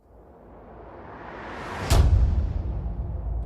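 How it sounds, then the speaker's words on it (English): A trailer-style whoosh swells steadily for about two seconds and slams into a deep, booming hit, which then rumbles on with a sustained low tail, loud and alone. "This little whoosh into the hit gives us something to work with in the beginning that, again, sounds trailer-like."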